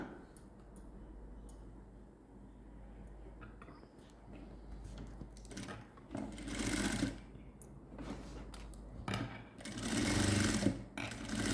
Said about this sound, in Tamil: இப்போ இதை நம்ம ஒரு தையல் அடிக்கலாம்